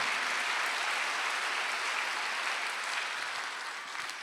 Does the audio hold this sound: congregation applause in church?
yes